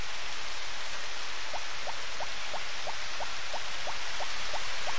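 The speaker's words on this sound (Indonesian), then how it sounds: "Kalau hujan enak ya" Rain in the Harvest Moon video game, a steady hissing wash of falling rain with a faint regular ticking pattern running through it, constant and even with no talking.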